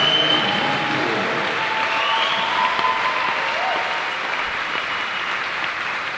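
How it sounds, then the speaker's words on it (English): A large audience applauds at the HCAC Division III conference swimming and diving championships senior recognition ceremony, a steady, dense round of clapping that fills a reverberant natatorium and holds evenly loud throughout without any talk. "let's give a big round of applause for the HCAC Swimming Diving Class of 2024."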